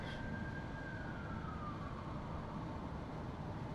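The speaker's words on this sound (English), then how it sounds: "Do you hear that police siren?" A police siren wails faintly in the distance at night, a single long tone slowly falling in pitch over steady background noise.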